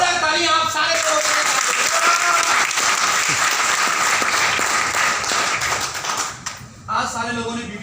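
Audience at a business-plan marketing seminar breaks into sustained, loud applause, dense clapping filling the room for several seconds before tapering off near the end, with some voices mixed in.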